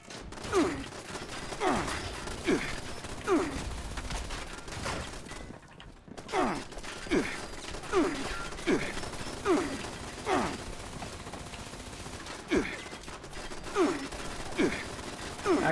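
Repeated gunfire in Fallout 76 destroying turrets, with sharp shots and ricochet-like zips in a steady rhythm, close and loud, with a short gap partway through before the firing resumes.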